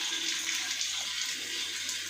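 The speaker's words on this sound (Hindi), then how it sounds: "अभी ये पानी आना शुरू हो गया," Water from a newly installed 50-litre geyser water heater starts to flow, a steady hissing rush with no speech over it.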